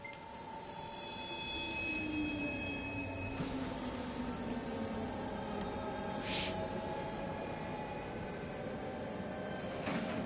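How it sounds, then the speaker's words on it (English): Steady rumble of a train ride in Final Fantasy XV, a continuous rolling drone with faint tonal whines and a few brief higher clicks, no talking. "experience for riding on a train."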